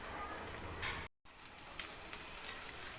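Potato chops fry steadily in hot oil on a stove, giving a dense, close crackling sizzle that keeps up throughout apart from a brief break.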